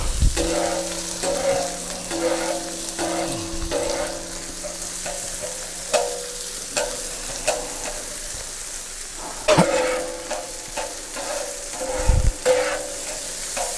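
Steady hiss and crackle of chicken frying on a hot griddle, with occasional scrapes and taps of a spatula, close and continuous.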